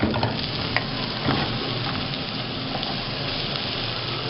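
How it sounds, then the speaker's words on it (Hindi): Green onions fry in a pan for Singaporean rice, a close, steady sizzle with scraping stirs and a few sharper crackles, continuous and alone without talk. "इसको थोड़ा सा फ्राई करेंगे"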